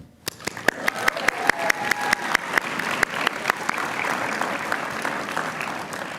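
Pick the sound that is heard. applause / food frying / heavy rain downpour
applause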